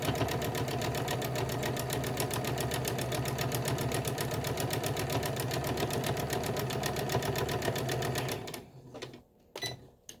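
Home sewing machine running fast and steady as it stitches a pleated fabric mask seam, a loud close mechanical rattle that stops abruptly near the end, followed by a few faint clicks.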